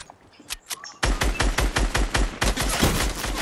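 Rapid automatic gunfire in the video game Fortnite rattles in a dense, fast string of close shots after a few scattered pops, loud and continuous for over two seconds.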